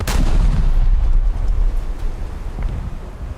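A heavy naval gun salvo from a warship in a naval battle game: a loud, booming blast that rolls into a sustained low rumble with wind-like roar, close and dominant throughout.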